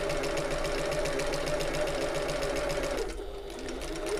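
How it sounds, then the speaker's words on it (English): Sewing machine running a top stitch down the centre line of a shoulder bag, a fast, even mechanical whirr held for about three seconds before briefly slowing and then picking back up, close and loud. "I'm going to sew up this centre line"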